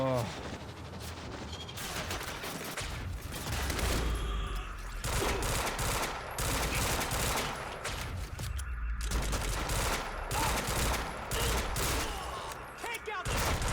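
Dense, sustained suppressive gunfire in the Quantum Break video game, rapid overlapping shots and bursts roaring continuously at close range with voices shouting over the din.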